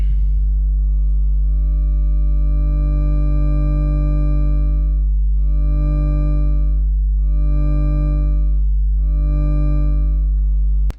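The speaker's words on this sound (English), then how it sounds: "as we rotate around, it's going to go into sine waves" A sustained wavetable synthesizer tone with rich harmonics plays alone, its timbre swelling and thinning in slow, regular pulses, about four times, as it morphs toward smooth sine waves.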